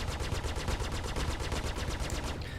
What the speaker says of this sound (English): I think our guns are not overheating anymore